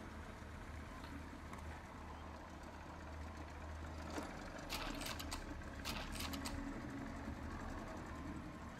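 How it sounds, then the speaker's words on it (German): A patrol boat engine in a video game rumbles steadily in the distance, joined midway by brief bursts of splashing or hissing noise. "da fährt jemand mit dem Boot."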